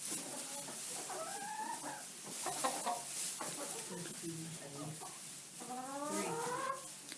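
Hens cluck and murmur from wooden nesting boxes in a chicken coop, several birds close by giving repeated rising calls and soft chatter, with faint talk underneath.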